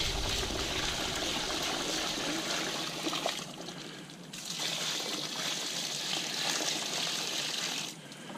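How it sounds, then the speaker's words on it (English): Water pours steadily into a bucket with a rushing, splashing stream, briefly pausing twice before continuing, heard close by without talk. "So you just fill that bucket with water"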